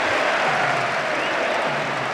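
Stadium crowd in the football video game Winning Eleven 2009 on PS2, a continuous loud roar of cheering and applause holding steady throughout without commentary.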